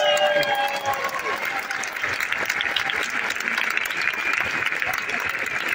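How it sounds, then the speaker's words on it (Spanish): An audience at a large corporate event applauds continuously, a dense wash of clapping with crowd noise that holds steady for several seconds. "Un aplauso para todos ellos."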